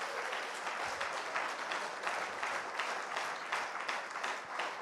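A hall audience claps continuously to welcome a speaker onto the stage at a business presentation, a steady mid-level roar of many hands that holds evenly throughout with no talking over it.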